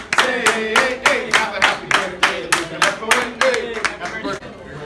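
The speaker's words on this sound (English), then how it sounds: "Let's give him a big round of applause." A small group claps along for a birthday, a sharp rhythmic burst of about a dozen hand claps at a steady beat, close and fairly loud, with people singing or chanting over the claps throughout.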